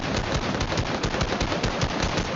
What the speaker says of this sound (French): ça tire de devant?